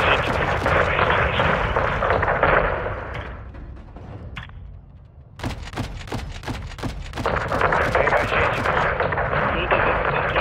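Heavy 40 mm cannon fire in Call of Duty Modern Warfare 2 pounds out in a rapid series of close, booming shots after a stretch of dense rumbling combat noise, with loud gunfire and explosions surrounding it.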